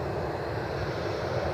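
A NetJets Cessna Citation business jet inbound from Teterboro, heard at Cleveland Hopkins as a steady, broadband engine roar that stays even and fairly loud throughout, with no talk over it.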